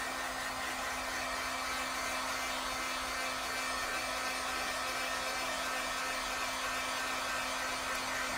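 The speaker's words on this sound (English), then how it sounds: "for the Wagner heating tool. It's the best one." A Wagner electric heat tool blows hot air over a watercolor painting on a Cricut mat, giving a steady, even fan whir with a faint constant hum and no break throughout.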